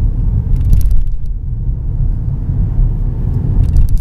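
A Hyundai Santa Fe engine rumbles steadily at moderate loudness as it accelerates while being shifted manually through the gears, a continuous low drone with slight surges and no talk over it.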